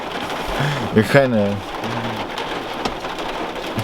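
Heavy rain pours down in a steady close hiss while someone talks over it.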